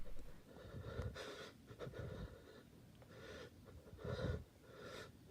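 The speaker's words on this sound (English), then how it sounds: "And he's breathing very heavily." A man breathes very heavily, with ragged gasping inhales and snorting exhales in uneven bursts, close but faint, with no talk over it.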